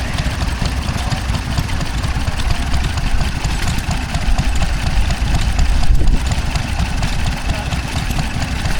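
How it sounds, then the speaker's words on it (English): A Wolseley WD2 stationary engine at a steam and craft fair drives a water pump, running with a steady, loud, close chugging throb that keeps an even rhythm throughout. "Another WD2 Wolseley, powering a pump, and by the looks of things a windmill."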